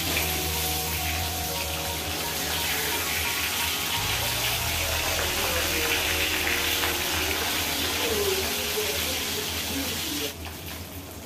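Pieces of rohu fish frying in a pan, turned on both sides, giving a steady loud hiss and crackle that carries on for several seconds before dropping away sharply near the end.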